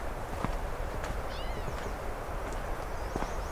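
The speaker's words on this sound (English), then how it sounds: "An actual meowing catbird." A gray catbird gives a few short, cat-like mewing calls, somewhat distant and faint over steady outdoor background noise.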